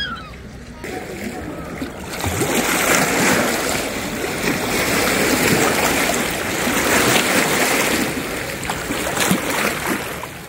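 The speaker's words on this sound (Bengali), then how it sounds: "পানির শব্দ, পানি আসতে পড়ছে পাথরের গায়ে" Lake water laps and splashes against stones along the shore of Erhai Lake in Dali, China, as a loud, continuous wash that rises and falls under a person speaking.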